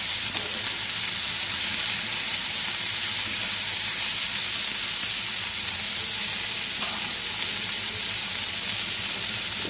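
Chopped capsicum (shimla mirch) frying uncovered in a pan over a low flame, a steady close sizzle and hiss running unbroken throughout with faint stirring.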